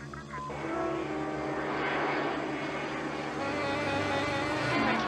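A fixed-wing aircraft on landing approach, its engines a steady, full drone that holds throughout, with a faint voice underneath.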